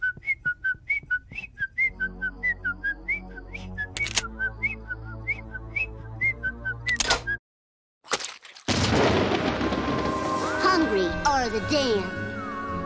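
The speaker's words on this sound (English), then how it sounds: "I'll just whistle a happy tune" A cheerful whistled tune from an animated Treehouse of Horror segment, with quick repeated notes over a soft musical backing, interrupted by sharp bangs and a brief silence before a louder, dense musical passage.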